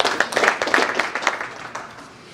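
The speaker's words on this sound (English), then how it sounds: "Let's clap for him." An audience at an international conference awards ceremony claps for a presenter, a brief burst of scattered, fairly close hand claps that thins out and fades within a couple of seconds.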